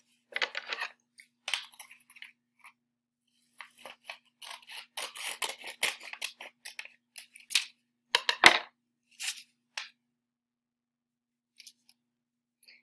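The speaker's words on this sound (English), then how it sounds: "fold it in half, and cut along the folded line" Scissors snip through a folded sheet of paper along the crease, a quick run of crisp, close cuts and rustles with short pauses between bursts.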